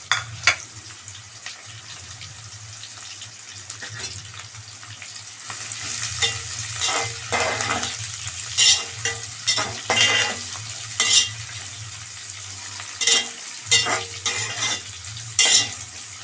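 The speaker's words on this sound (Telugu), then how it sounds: "ఉల్లిగడ్డలు బాగా నూనెలో వేగేంత వరకు వేగనివ్వండి" Onions sizzle in hot oil in a pan, with a steady frying hiss under repeated metallic scrapes and clinks of a spoon stirring them, growing busier in the second half with regular stirring strokes.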